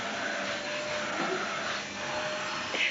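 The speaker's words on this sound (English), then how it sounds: "We're going to see Jahziyah hoover for the first time" A seven-year-old child runs a vacuum cleaner at home, a steady whining motor drone with slight shifts in pitch as the nozzle moves, close and continuous.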